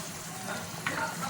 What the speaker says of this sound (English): Then you stir gently again.